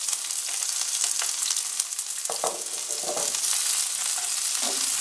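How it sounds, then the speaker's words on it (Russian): Bell pepper frying in a little oil for a Georgian beef and veal chashushuli stew, a steady bright sizzle with occasional crackles and stirring scrapes, close and alone. "маслица маленько и начинаем обжаривать болгарский перец."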